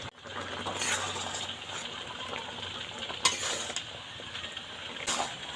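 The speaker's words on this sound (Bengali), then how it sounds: "এই গুড়ের রসটা নেড়ে চেড়ে একটু শুকিয়ে নেব" Jaggery syrup for a sweet-sour chalta (elephant apple) pickle being stirred in a pan as it thickens, with steady scraping and faint sizzle, a few sharper clinks of the spoon against the pan, no talking.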